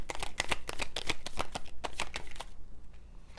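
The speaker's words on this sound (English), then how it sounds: "Let me get one more card." Tarot cards riffle and slap together in a quick, close, steady run of crisp shuffling, thinning out and falling quiet near the end.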